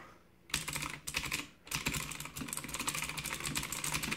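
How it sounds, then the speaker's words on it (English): Fast, steady clicky typing on a mechanical keyboard with blue switches, crisp, tactile keystrokes, close and clear, with a brief pause near the start. "It's a mechanical keyboard. It has blue switches, so it sounds really beautiful."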